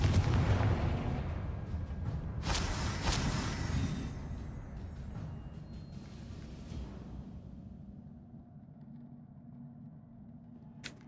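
A Confringo explosion spell in the video game Hogwarts Legacy sounds as a loud, rumbling blast that starts at full strength and fades slowly over several seconds into a low hum, with a faint tick at the end and no speech.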